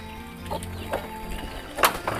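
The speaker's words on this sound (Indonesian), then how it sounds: "jadi ini tempat tidurnya para burung-burung" Chickens cluck at their roost in a rural forest setting with a scattering of short, nearby clucks and calls over a low steady background. Nobody speaks.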